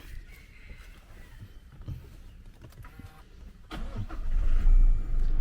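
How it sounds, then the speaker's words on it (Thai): A 2020 Toyota Hilux Revo Rocco 2.4 automatic pickup cranks and fires up near the end, settling into a low steady idle after quiet rustling and handling sounds. "เดี๋ยวมาสตาร์ทแล้วก็ ฟังเสียงเครื่องยนต์กันนะครับ"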